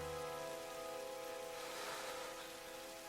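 Cold rain pours steadily in a Tomb Raider game scene, a constant soft hiss of drops with a faint low tonal hum beneath, no talking.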